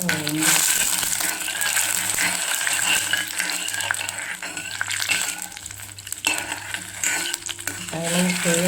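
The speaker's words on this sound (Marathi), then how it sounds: "आता ढवळून घ्यायचं." A spoon stirs sugar into a tempering in a pan while cooking dal-rice dhokla, producing soft, continuous scraping and light sizzle under steady background music.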